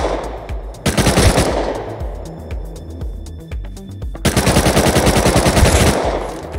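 Close, loud bursts of rapid automatic gunfire in Rust Console Edition, with two long sustained volleys separated by a short gap of scattered single shots and no talking.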